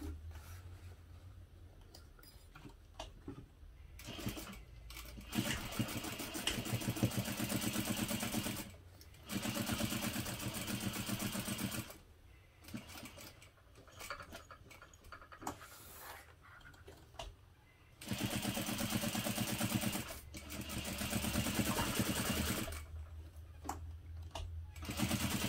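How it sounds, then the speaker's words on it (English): A sewing machine stitches the side and top seams of a hip pouch at a 1/2 inch seam allowance with a short stitch length, running in steady close bursts separated by brief pauses. "I'm going to sew using a 1/2 inch seam allowance up both sides and along the top only"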